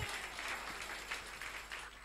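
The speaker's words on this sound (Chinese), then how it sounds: "我们拍掌把荣耀归给耶稣" A Sunday church congregation claps hands in praise, a faint, steady patter of many hands blending into a soft wash of applause for about two seconds.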